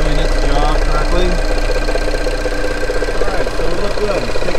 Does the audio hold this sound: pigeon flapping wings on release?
no